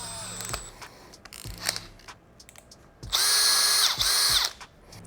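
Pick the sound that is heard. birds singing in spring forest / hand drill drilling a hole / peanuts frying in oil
hand drill drilling a hole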